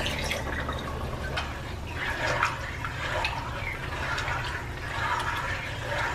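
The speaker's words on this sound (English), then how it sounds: "and a half cup of water." Water poured into a pot of lasagna sauce made from crushed tomatoes, tomato sauce and tomato paste, a soft continuous splashing trickle heard up close and fairly quiet.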